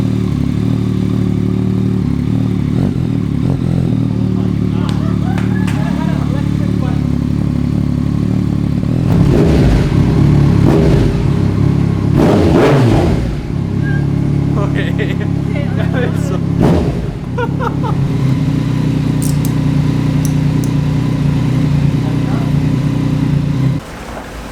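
A Yamaha MT09 motorcycle fitted with a full Akrapovic header and carbon exhaust idles loud and close with a deep steady drone and a few throttle blips, while people talk over it.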